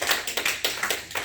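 A small church congregation clapping in a short, uneven burst of hand claps lasting just over a second, moderately close.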